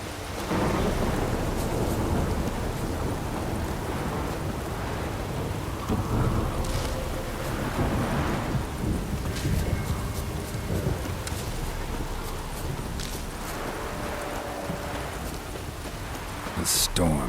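A thunderstorm in The Witcher 3: Wild Hunt video game, with steady rain and repeated rolling thunder rumbles, loud and close, while a voice talks over the storm.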